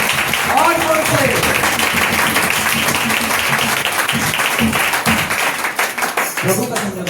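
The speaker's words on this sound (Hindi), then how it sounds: "प्रभु को ताली हो जाए प्रभु के लिए। और जोर से" A church congregation claps loudly for the Lord in fast, rhythmic bursts that fill the space, while a preacher's voice and singing carry over the clapping before it thins out toward the end.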